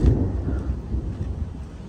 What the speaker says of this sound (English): It's a pretty bad random little storm on us.